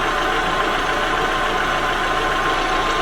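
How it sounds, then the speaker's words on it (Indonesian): A car engine idling steadily at close range after about ten minutes of running during a radiator flush from plain water to coolant, a continuous even hum with no talk. "Saya rasa mesin sudah menyala sekitar 10 menit."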